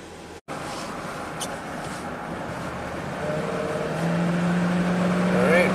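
A Dodge Ram truck engine drones steadily while driving, rising gradually in loudness as it pulls, with a brief dropout near the start and a faint tonal whine emerging later.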